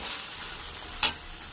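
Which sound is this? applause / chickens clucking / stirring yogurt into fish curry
stirring yogurt into fish curry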